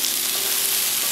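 Mixed vegetables including cauliflower, potatoes, beans and carrots sauté in a hot pan for curry, giving a dense, continuous close sizzle with no voices.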